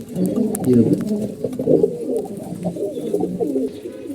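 A male pigeon coos in repeated throaty rolls, near and full, with other pigeons faintly chirping and a person talking intermittently alongside.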